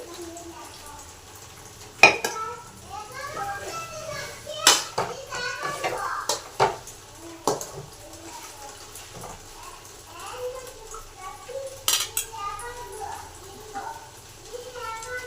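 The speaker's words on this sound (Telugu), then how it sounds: "టమాటో కూడా వేసాము, వేగుతుంది." Tomato frying in a pan with ginger masala and chili gives a soft, continuous sizzle, broken by sharp clinks and scrapes of stirring, while someone speaks nearby.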